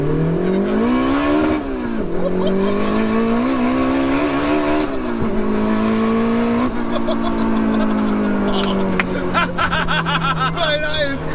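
Big-turbo Toyota MR2 sleeper accelerating hard, its loud engine note climbing and dipping through gear changes, with tires squealing toward the end as people talk over it close by.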